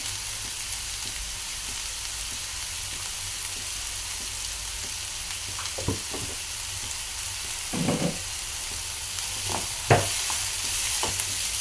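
Onions and green chillies sizzle steadily in a pan, with a few louder stirring scrapes and clatters at intervals, and no talking.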